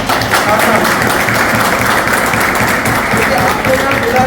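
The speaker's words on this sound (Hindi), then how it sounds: "मैं उनके लिए एक बार जोरदार ताली देता हूं" Audience at a Hindi-language gathering applauds loudly and continuously, a thick, close wall of clapping, with a voice speaking under it.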